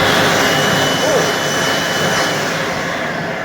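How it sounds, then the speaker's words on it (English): World Dryer Smart Dryer hand dryer in a public restroom running at full speed, a loud steady rushing airflow roar with a high whine, continuous and close throughout. "let's head down and look at the other set of World Dryer Smart Dryers"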